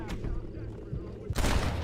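A gunshot cracks out in the Red Dead video game, a sharp loud burst near the end that follows quieter game ambience and a brief earlier report.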